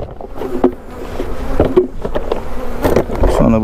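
Honey bees buzz at an opened beehive during an August hive inspection, a close, busy drone with individual bees zipping past in passing swells, accompanied by handling knocks.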